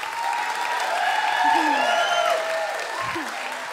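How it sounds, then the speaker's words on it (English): Steady audience applause at the final of a student comedy competition, a broad wash of clapping swelling slightly mid-way, with voices and murmurs faintly audible within it. "if everyone wants to give a massive round of applause to me for coming up with that"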